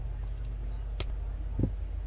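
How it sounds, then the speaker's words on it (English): Scissors snip through tassel thread in a single short, crisp cut up close, with a faint second click soon after, set against a quiet, low background hum. "hold on to it and cut the other end"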